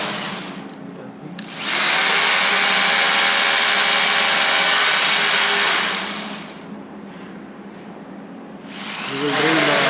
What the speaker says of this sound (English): Now we will drill this.